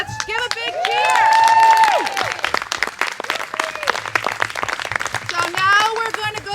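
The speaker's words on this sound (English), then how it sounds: "Let's give a big cheer." A crowd cheers, whistles and claps at an outdoor street mural painting event, with a loud swell of applause and whoops that thins into scattered clapping and voices.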